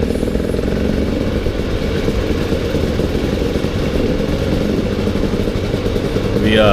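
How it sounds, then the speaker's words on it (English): Dirt bikes ride through a town in Spain, a steady close rattling engine drone with clattering mechanical texture, loud and continuous, with a brief rising rev at the end. "I just thought it was kind of cool riding through the town on your dirt bikes."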